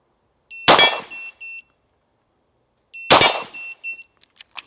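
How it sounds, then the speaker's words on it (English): A sharp electronic shot-timer beep sounds, with two loud pistol gunshots cracking nearby at a shooting range, followed by a few short metallic clinks. "as soon as I press this buzzer, I'm gonna be ready to go"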